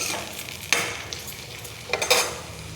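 Mustard seeds, cumin, a dried red chilli and fenugreek fry in hot oil in a pan for beans sambar, giving a close, steady sizzle with crackles and a few louder spoon scrapes.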